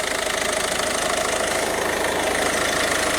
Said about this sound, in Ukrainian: Гарно працює двигунчик, чистенько.